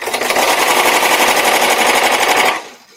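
Embroidery machine stitching a penguin design: a loud, dense, rapid mechanical chatter runs steadily for about two and a half seconds, then stops abruptly.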